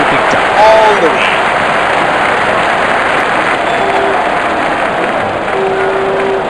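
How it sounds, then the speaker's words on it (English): Cricket stadium crowd in the Real Cricket 19 video game, a broad, steady roar of cheering and applause that stays loud throughout, with faint horn-like tones rising above it. "Crowd is going crazy."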